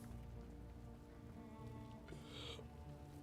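Rain falls in the Space Engineers video game, a soft continuous patter heard faintly under low in-game hum, with a brief brighter hiss near the end.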